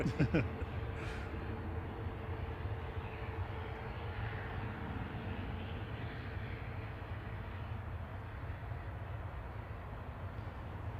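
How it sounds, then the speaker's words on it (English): A Loganair ATR 42-500 turboprop arriving from Inverness at Manchester Airport, a distant, steady engine rumble and drone lasting throughout under a faint breathy hiss, with soft talk in the background. "Next in is Logan Air from Inverness, ATR 42-500 GLM Mardi."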